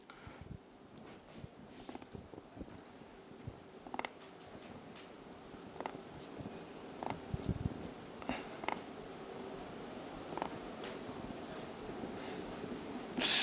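Pen scratches and taps sound as a chemical formula is written by hand, irregular close strokes of faint to moderate loudness over a low steady hum, with no talking.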